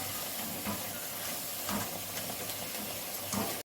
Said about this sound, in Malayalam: ഇപ്പോൾ എണ്ണ ചൂടായിട്ടുണ്ട്. നമുക്കിത് ഇതിലേക്ക് ഇട്ട് കൊടുക്കാം.